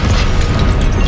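A Confringo blasting spell explodes in the Hogwarts Legacy video game, giving a dense, loud, sustained rumbling burst that fills the whole moment with no clear break.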